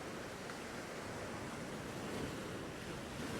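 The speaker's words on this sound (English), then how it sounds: "This next wave coming, I'd say, for sure." Ocean waves breaking and washing along a rocky shore ledge, a steady loud rushing roar with wind across the microphone and no talking.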